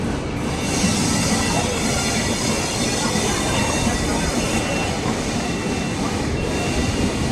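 A BNDX diesel locomotive hauls a weekly superfast express through Shalimar station, a steady loud rolling rumble with rail hiss and faint wheel squeal that holds throughout without a break.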